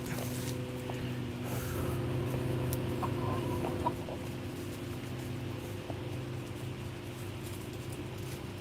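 A pet chicken clucks softly and intermittently near by, with a faint hum and some vehicle noise in the background and no talking.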